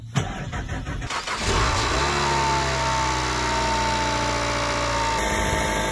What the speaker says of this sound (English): Now these Skyactiv G engines, when you start them up, even on a warm day, they can be a little loud and raucous